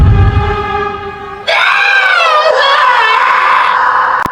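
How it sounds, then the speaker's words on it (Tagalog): Several voices scream together, loud and close, a sustained chorus of overlapping high wails that swells suddenly after a single opening cry. "Biglang nagkaroon ng sigaw, hindi lang isa, kundi maraming boses"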